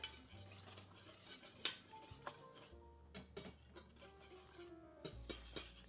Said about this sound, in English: I'm gonna whisk this together.